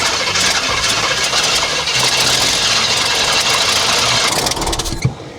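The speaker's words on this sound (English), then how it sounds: "see if it'll start on some brake clean." A project car engine, fed brake cleaner, cranks and catches into a rough, loud, mid-pitched running note that holds steady before a sharp knock near the end, with no voices.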